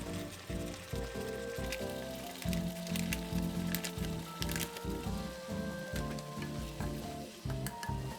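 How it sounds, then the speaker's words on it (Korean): Mapo tofu sauce and a splash of water bubbling and sizzling in a pan with stir-fried pork, onion, carrot and leek, with a steady close simmer broken by scraping stirs. "물 50ml, 마파두부 소스를 넣고 끓여줍니다."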